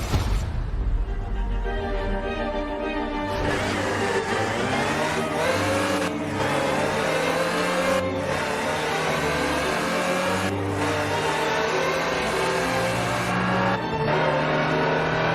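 A Land Rover Type 3 utility vehicle driven in Forza Horizon 4, its engine revving up and down through repeated gear changes with rising and falling whine, close and steady throughout, no talk.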